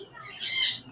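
A single loud, shrill bird squawk rises and falls over about half a second, nearby and clear against a quiet room background.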